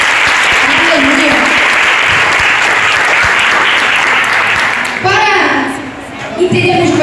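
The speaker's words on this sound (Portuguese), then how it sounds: "Quero que os irmãos dêem uma linda salva de palmas para o Senhor nessa noite." A church congregation at a children's group festival of an Assembly of God church claps together in strong, sustained applause for about five seconds, then it fades as voices take over.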